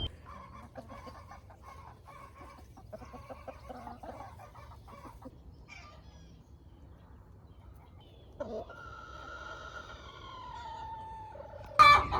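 Chickens cluck and murmur nearby, with a drawn-out rising call near the end and a sudden loud squawk to close.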